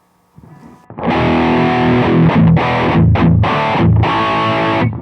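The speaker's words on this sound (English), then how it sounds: "Distortion II." Donner MultiPad-100 electronic drum pad run through its Distortion II effect, a loud, dense, buzzing fuzz-distorted tone sustained across several bursts with brief gaps, alone without talk.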